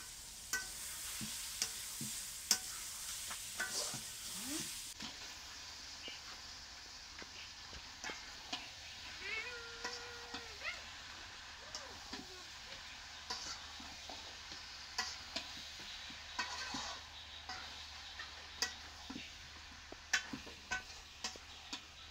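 Spices sautéing with boiled water lily stems for a hilsa curry, a soft steady sizzle broken by frequent clinks and scrapes of a stirring spoon against the pan, close and fairly quiet.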